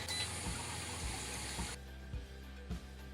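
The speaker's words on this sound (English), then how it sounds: "It's draining, as you can hear it." Wort drains steadily out of an Anvil Foundry brewing system, a loud continuous watery rush that cuts off abruptly partway through, leaving a quieter trickle with a few low thumps.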